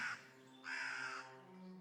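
A crow caws in two loud, harsh bursts, the second longer, with a steady low hum underneath and no voices.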